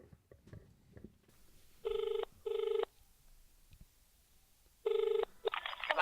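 Telephone ringing on a recorded prank call, two clear rings in quick succession, a pause, then a third ring, each a bright steady electronic trill heard alone over faint line hiss.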